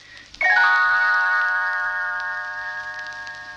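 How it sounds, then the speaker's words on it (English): A single bright chime rings out after a soft click, its clear bell tones sustaining and slowly decaying. "when Tinker Bell rings her little bells like this"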